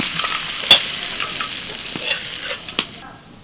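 A spice masala sizzles and fries in a pan while a spoon stirs it, making a steady hiss broken by a few scraping clicks close up. The hiss cuts off abruptly near the end.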